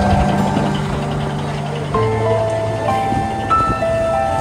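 A motorized tricycle engine drones steadily nearby, a continuous mechanical hum with shifting tonal whine, loud and close throughout.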